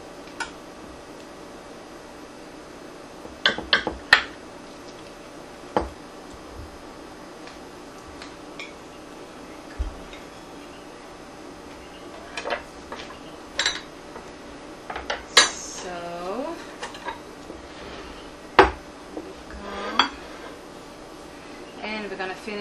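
A knife cuts a piece of warm pineapple coconut cake on a plate, with a handful of sharp, scattered clinks and scrapes against the dish, close by, separated by quiet gaps and soft talking.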